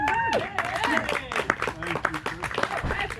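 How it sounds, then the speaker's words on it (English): An audience at a summer concert claps in a loose, fairly quiet round of applause, with voices and chatter mixed in throughout. "please give a warm round of applause to Ashley"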